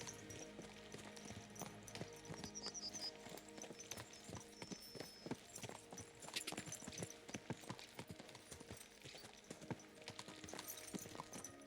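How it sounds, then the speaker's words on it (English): Horses gallop in the medieval video game Kingdom Come: Deliverance 2, hooves clip-clopping in a steady rapid rhythm over a busy game soundtrack, with no one talking. "Let's really spur these horses on, eh?"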